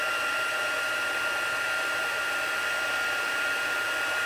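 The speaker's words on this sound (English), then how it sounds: "And then we are going to melt that embossing powder" A heat tool blows hot air across embossing powder on paper, melting it with a steady, loud, even whooshing hum and no pauses.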